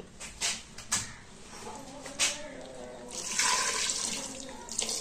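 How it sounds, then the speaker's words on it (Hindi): Water from a glass poured into a pot of chicken samosa filling in a home kitchen, a steady splashing pour that swells louder toward the end, with a few clinks alongside. "और तकरीबन 1 ग्लास डालेंगे इसके अंदर पानी का।"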